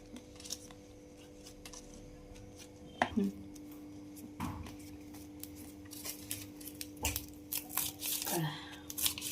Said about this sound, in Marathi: आता ही पानं आपण एकावर एक ठेवून चिरून घेऊया।